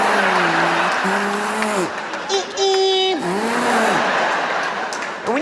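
A voice mimics a Prius accelerating onto a freeway, with whining, rising and falling hums and a high tonal whir, loud and close, before an audience.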